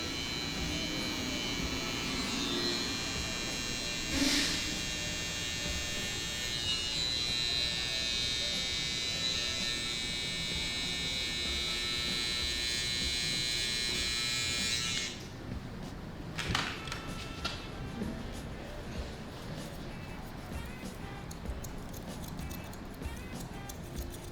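Electric hair clippers cutting a combover fade, a steady close buzz running for about fifteen seconds with a brief bump near the start, then stopping and giving way to quieter room sounds and light handling.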